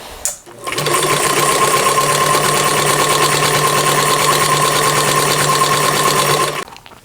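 Sewing machine fitted with a walking foot stitches fabric for a pair of pants, starting with a click and then running steadily at a fast, even whir for several seconds before stopping abruptly.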